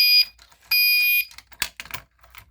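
Fire alarm going off during a system test, two short piercing electronic tones, the second longer, followed by clicks and clatter of the device being handled and shut off.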